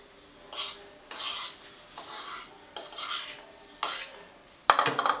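Eggs are beaten in a bowl, heard as six separate bursts of brisk scraping and clinking against the bowl, with short quiet gaps between them, ending in a sharper, louder clatter.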